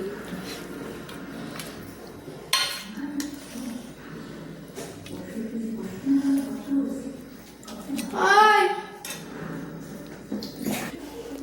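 Plates clink and a serving spoon scrapes and taps against metal dishware as mixed vegetable curry with fish head is dished onto a plate, with scattered knocks under a voice talking nearby.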